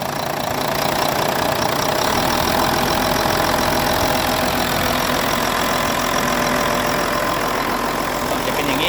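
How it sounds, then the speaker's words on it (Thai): A farm engine started for filling a freshwater prawn pond, idling steadily with a dense, continuous mechanical rumble and throttle pulled, no voices over it. "ติดเครื่องเรียบร้อยนะครับผู้ชมนะครับ จะมาคันเร่งดึงคันเร่งนะครับผู้ชม"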